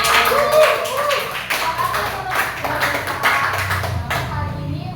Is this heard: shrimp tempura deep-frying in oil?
no